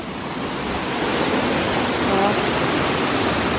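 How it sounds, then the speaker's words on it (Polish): A continuous broadband rush of falling water, steady and fairly loud, from a nearby waterfall on Madeira. "Zobaczcie, mamy kolejny wodospad."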